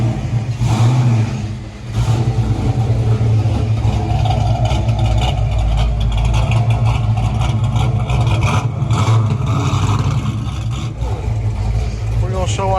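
A loud SSP car with a raw, throaty exhaust drives off, engine revving and accelerating continuously close by, with a brief dip before it pulls away, voices faintly underneath.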